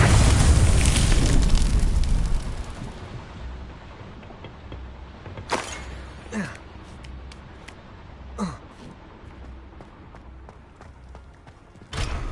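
Blasting fire spell in a Hogwarts wizarding video game: a loud, roaring explosion that rumbles for a couple of seconds and fades, followed by a few sharp, brief impacts in a quieter scene.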